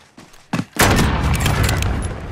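Shotgun fire in a first-person shooter video game, a couple of sharp blasts followed by a louder booming shot that trails into a sustained rumble of continued gunfire, close and loud.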